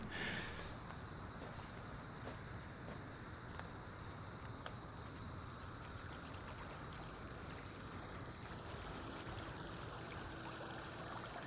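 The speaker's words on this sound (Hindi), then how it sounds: "पानी की आवाज सुन रहा हूं मैं।" Steady rushing of flowing water from a stream, continuous and fairly loud, with no talking.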